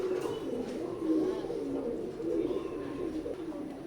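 Several male white golden Teddy pigeons cooing nearby in a steady, overlapping series of low, throaty rolling coos with light background rustling and no talk.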